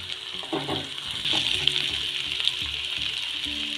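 Potatoes sautéing in a pan with oil and a little salt, giving a steady soft sizzle with a few clinks and scrapes of stirring in the first two seconds.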